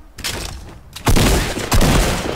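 Gunfire from a free online shooter video game blasts loud and close: a burst of shots, then two heavier volleys in quick succession, with almost no pause between them.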